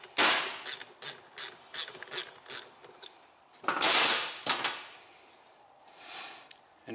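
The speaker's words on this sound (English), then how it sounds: "Let's loosen off the air filter nut." A ratchet wrench loosens the 7mm air filter nut on a cheap garage-sale leaf blower, giving bursts of quick clicking pawl strokes in short rhythmic runs, close up, with brief pauses between them.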